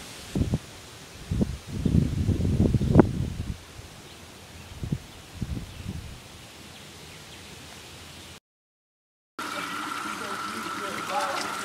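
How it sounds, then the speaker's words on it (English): Sweaty clothes sloshed and wrung in cool water on a hiking trail, with several bursts of splashing and dripping close by, then quieter trickles and a steady background hiss. "Gotta do some laundry, get all that sweat out of the clothes."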